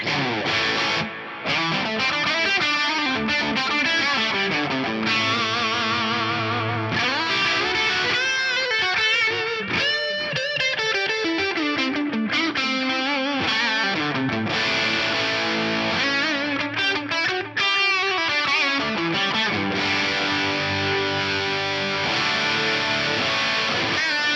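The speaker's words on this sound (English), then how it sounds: "I really like the stock panning delay over here with the mix turned up a little bit" A distorted electric guitar through a tube amp plays sustained chords and lead lines, its notes trailed by repeating stock panning delay echoes that bounce side to side, loud and continuous.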